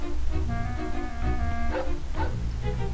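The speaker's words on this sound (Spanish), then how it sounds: "Oh, un perro." Cartoon dog barking in the Bugs Bunny: Lost in Time video game, a few short yips and barks over game music and background noise, fairly loud and close.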